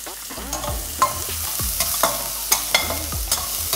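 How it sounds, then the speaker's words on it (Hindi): Chopped onion and green chili sauté in a pan, a soft steady sizzle broken by regular scraping strokes of a spoon stirring, close up with no talk. "बारीक कटा हुआ प्याज जो कि मैं इसमें ऐड कर लूँगा"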